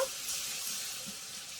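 Water goes into a pan of paneer masala made with ground ginger, cashew, poppy seed and melon seeds, producing a soft, steady hiss and bubbling that is fairly quiet and even, with no voices.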